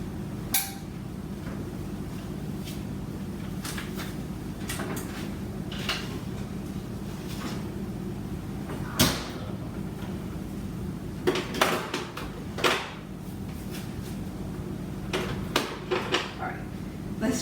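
Freshly baked polvorones cookies come out of the oven amid scattered metallic clanks and knocks of trays and pans, irregular and fairly close, with quiet gaps between.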